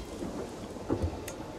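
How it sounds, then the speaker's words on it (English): A rainstorm with rumbling thunder in the Crusader Kings Godherja mod: a low, steady wash of rain with soft swells of thunder near the middle, fairly faint throughout. "Short rain, that'll go away soon."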